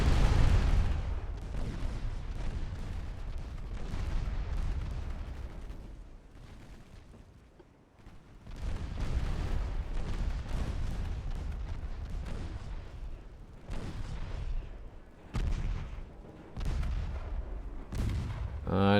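Battleship 7-inch guns firing in the Ultimate Admiral Dreadnoughts naval video game, a series of heavy booming shots with rumbling tails, irregular and moderately loud, with a brief lull partway through.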